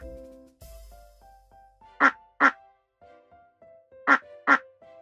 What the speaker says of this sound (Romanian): Mami, mami, cum face rața? Rața face mac, mac.